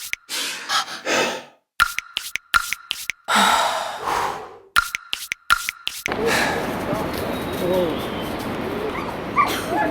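A frightened puppy whimpers and yips in short bursts, close by, among breathy sounds and a soothing voice, before the scene gives way to steady outdoor noise.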